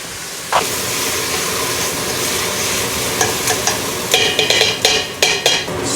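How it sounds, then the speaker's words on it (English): Costco short ribs sear in a hot pan as liquid hits it for deglazing: a sharp hissing burst, then a loud steady sizzle, with scraping stirring strokes clattering near the end. "All right, deglaze."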